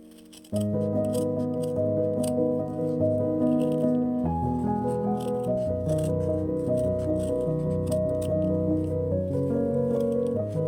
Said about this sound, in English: Cut off the extra felt.